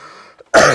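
A single short, loud throat clearing or cough bursts out near the end, after a moment of faint background murmur, close to the microphone during a church sermon.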